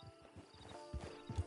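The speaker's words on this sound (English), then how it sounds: "Just get on the horse when you're good and ready, okay?" Hoofbeats of a horse in Red Dead Redemption 2 Online, a rhythmic clip-clop of steady steps at low volume, heard without talking.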